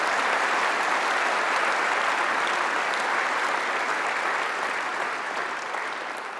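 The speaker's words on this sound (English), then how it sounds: "So please give them a big round of applause." Audience applause at a political speech by Philip Hammond, a dense, sustained ovation from a large crowd with no voices over it, holding steady before easing slightly toward the end.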